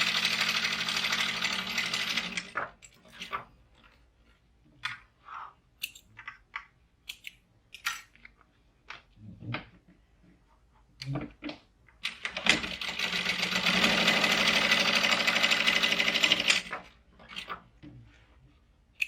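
Sewing machine topstitching a pouch seam: two loud runs of rapid stitching at the start and again later, separated by quiet stretches of scattered clicks and small handling noises.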